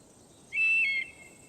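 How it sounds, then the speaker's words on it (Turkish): A single bird call warning in Assassin's Creed Odyssey, a clear, high whistled note lasting about half a second, rising out of quiet background ambience. "Kuş bizi uyarmış bu arada."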